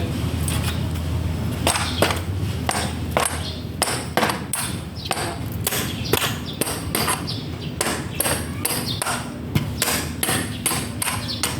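Hammer striking and prying out nails, a steady run of sharp metallic blows repeating every half second or so, close and clear with no talk.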